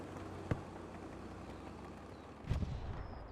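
Artillery fire in a video game: two dull, booming shots, one early and one near the end, each with a short rumbling tail over a steady low background.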